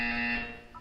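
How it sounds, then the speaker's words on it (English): A buzzer in the video game Portal 2 sounds one sustained harsh electronic tone that fades out, followed by a short pair of quieter higher beeps. "When you hear the buzzer, look down at the floor."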